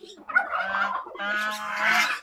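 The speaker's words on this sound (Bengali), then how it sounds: "এই যে আমাদের রাজহাঁসগুলো" Farm geese calling in two loud bursts of harsh, overlapping honks and cackles, close by with no talk.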